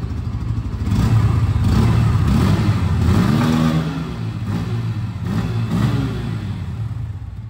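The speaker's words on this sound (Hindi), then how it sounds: "मैंने स्टार्ट कर लिया तो एक बार एग्जॉस्ट साउंड भी आप लोगों को अच्छे से सुना देता हूँ।" A 2024 Bajaj Pulsar N160 motorcycle idles close by, then its exhaust rises through several throttle blips, a loud revving drone swelling and falling back in repeated bursts.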